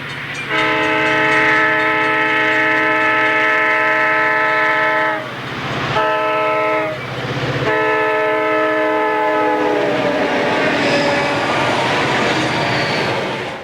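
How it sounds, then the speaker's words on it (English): A loud, close horn from an empty northbound Illinois Central coal train blasts in long sustained chords with brief breaks at a grade crossing, then rolling rumble and rattle of rail cars passing. "a northbound empty coal train passes south of Ben Y at milepost 72"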